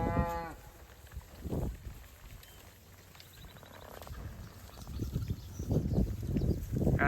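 Cattle lowing during a cattle drive moved with polywire fencing, several moos rising at intervals over low outdoor background noise, with one harmonic call early and louder, overlapping calls toward the end.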